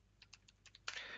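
Quick, light keystrokes tap out on a computer keyboard during an Arch Linux install, a handful of close, crisp clicks followed by a brief burst of faster typing, quiet and without talk.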